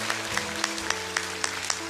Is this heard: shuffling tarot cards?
no